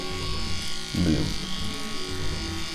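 Tattoo machine buzzing steadily up close while shading a yellow pigment gradient on skin, a continuous electric drone that swells briefly as the needle works, with a person talking over it.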